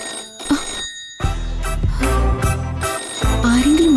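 A home telephone rings in a Malayalam TV serial scene, bell-like ring bursts recurring over background score, fairly close and clear.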